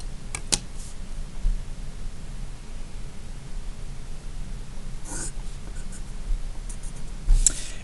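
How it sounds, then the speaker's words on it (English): A pen drawing a line across a graph on paper, a soft continuous scratch close to the mic with a few faint taps, and no talking. "draw my line"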